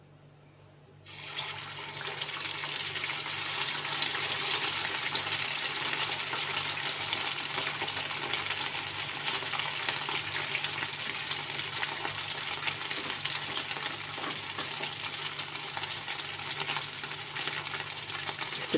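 Chapli kababs dropping into hot oil set off a loud, steady sizzle that starts abruptly and holds as a dense, continuous crackle for the whole stretch, close and without talk.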